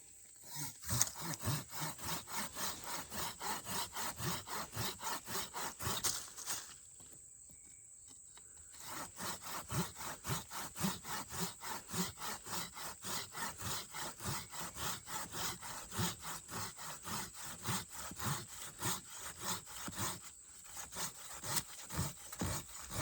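A hand saw cuts through the wooden trunk of a broken axe handle in the Agawa Canyon woods, with steady rhythmic back-and-forth strokes close up and one brief pause partway through.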